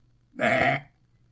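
A person imitates a monster's burp with a single loud, rough, throaty belch about half a second long, standing out against a faint low hum.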